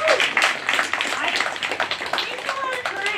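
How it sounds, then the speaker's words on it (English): An open mic audience claps in dense, lively applause at close range, with voices talking and calling out over the clapping throughout. "give you a round of applause right now"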